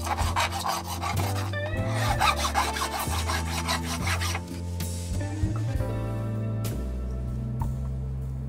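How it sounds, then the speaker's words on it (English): Milling a motor mount out of 25mm acrylic with a blunt single-flute cutter on a cheap machine, a loud grinding, rasping cut with shifting tonal whine and a fluttering rhythm, pausing briefly midway. "I cut a temporary motor mount out of 25mm acrylic"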